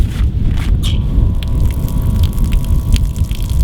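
12V water pump in a 4x4 canopy setup switched on, a loud steady low rumble with a rushing, splashing flow of water from a 40 litre underbody tank, with a faint whine above.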